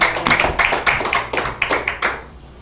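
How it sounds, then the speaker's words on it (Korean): A church congregation claps in a quick, fairly steady rhythm of sharp individual hand claps, close and distinct, lasting a couple of seconds before stopping. "박수합니다."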